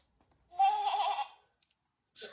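A single wavering sheep bleat from a Peppa Pig sound book, sounding for under a second, close and clear, followed by near silence and a short faint trailing sound.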